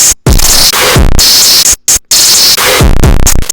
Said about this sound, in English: It basically turned every single part of the sound into a square wave, which means that it's just more heavily distorted.